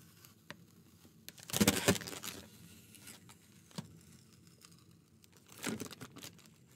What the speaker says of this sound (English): And slowly pulling this tape off.